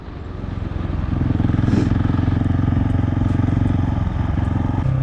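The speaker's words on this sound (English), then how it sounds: "Got a nice grunty tone to the exhaust." A 2021 KTM 690 SMC R motorcycle exhaust rumbles up close with a deep, throaty, pulsing tone, rising as the engine revs and then holding steady, with no voices.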